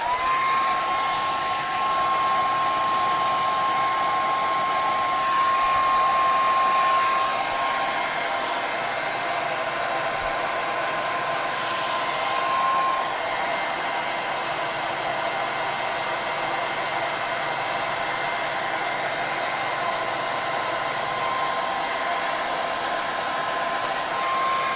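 A heat tool blows hot air at stuck pages to pull them apart, a loud, steady fan roar that runs without a break. A faint high whine rides on top, and no one speaks.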